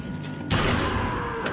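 Handcannon gunfire in Resident Evil 4, a heavy single blast that booms out and rings with a long noisy tail, loud and alone.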